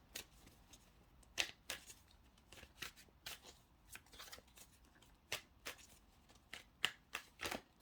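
Tarot cards being shuffled, a series of crisp riffling and slapping bursts at irregular intervals, quiet and close with no speech.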